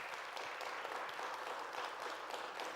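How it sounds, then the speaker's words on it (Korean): A church congregation at a young adults' service breaks into brief applause, a soft, steady patter of many hands clapping for a few seconds in a large room. "박수 한번 합시다."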